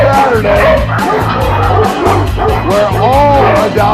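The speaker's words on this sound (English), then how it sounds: "the dogs are crazy today. I think I'm just going to let them bark." Many dogs bark, yip and whimper at once in an animal shelter, a loud, dense and constant chorus filling the space close by.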